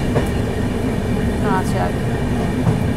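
A passenger train on the Howrah to Dibrugarh route rumbles along in a steady, close, loud drone from inside the carriage, with faint metallic squeals rising briefly over the roll.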